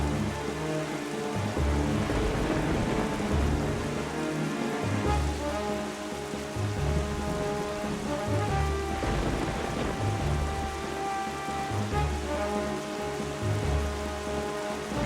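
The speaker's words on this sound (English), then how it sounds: "For sounds of stormy seas." Stormy seas in the video game The Legend of Zelda: The Wind Waker bring steady heavy rain with rolling thunder rumbles underneath, a continuous dense wash with no speech.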